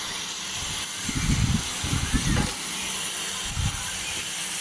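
Fish curry with mustard and poppy seed paste hissing and sizzling in a hot pan as water is poured in, steady steamy hiss with a few louder bursts of bubbling.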